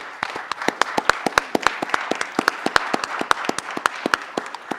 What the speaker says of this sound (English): can we please give our Board of Education a round of applause